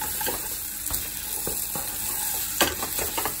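Paneer being stirred into sautéed vegetables in a hot pan, with a steady close sizzle and repeated scraping strokes of a spoon across the pan.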